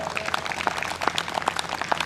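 A crowd applauds at an International Yoga Day celebration, a steady patter of many hands clapping at moderate loudness, scattered claps rising and overlapping throughout.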